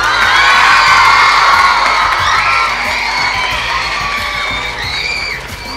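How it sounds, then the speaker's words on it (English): Loud, sustained cheering and whooping from a school speech day audience, with children's shouts rising over a dense crowd roar that gradually eases while staying strong throughout. "Again, for the whole group, a big, hearty round of applause."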